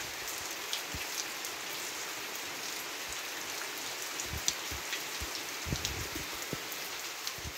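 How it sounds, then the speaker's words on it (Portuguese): Steady rain falls on a cattle farm, a continuous dense patter of drops on surfaces with occasional louder nearby drips, heard alone without voices. "Chuva, minha gente."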